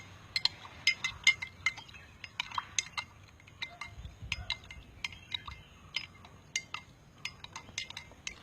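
A spoon clinks again and again against a glass while stirring a thick mix of turmeric powder, honey and liquor, bright clicks in an irregular rhythm over a quiet room.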